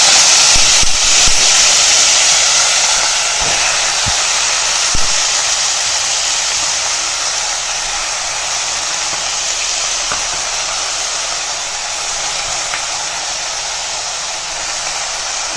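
Spinach greens hit a hot pan already tempered with urad dal, giving a loud, close, continuous hiss and sizzle that eases slightly over time, with scattered small pops and clicks.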